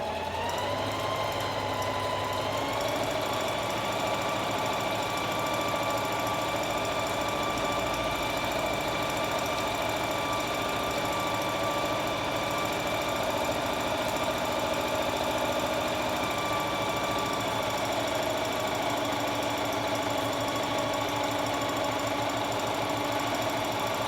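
A home sewing machine stitching the seam of a fabric scrunchie: a loud, close, continuous mechanical hum with a rapid, even needle rhythm running unbroken for about twenty-four seconds, no speech.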